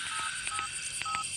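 Telephone keypad tones in a dubbed Hindi horror film: a quick series of four or five short electronic beeps, clear and close over a faint background hiss, with no talking.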